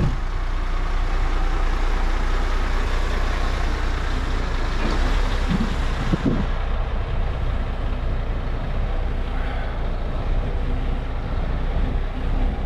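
A truck engine drones steadily and loudly throughout while the vehicle drives, a dense low rumble with road noise and a few brief knocks midway.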